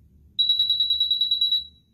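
A Barudan embroidery machine's rapid, high-pitched electronic beep pulses about a dozen times in quick succession at startup, close and clear, lasting just over a second before stopping.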